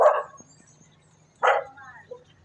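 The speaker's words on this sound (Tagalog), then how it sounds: "May aso." Two sharp dog barks about a second and a half apart, fairly close, with a faint low hum in the background.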